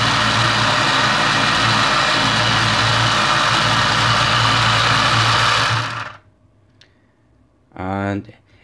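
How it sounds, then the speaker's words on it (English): A kids' Real Power Work Shop toy power sander buzzes loud and steady at close range for about six seconds, then stops abruptly; a short burst of speech follows near the end. "a little bit of demonstration with the sander"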